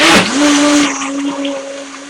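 A blender grinds rehydrated seeds, opening with a loud coarse burst as the motor spins up and then settling into a steady high whine that stays loud and close for about two seconds.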